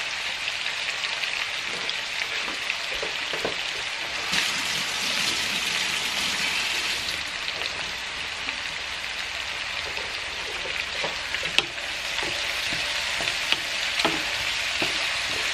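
Meatballs fry in a generous amount of hot oil, giving a dense, steady crackling sizzle like rain on a surface, with occasional pops and stirring knocks, close and continuous with no voices.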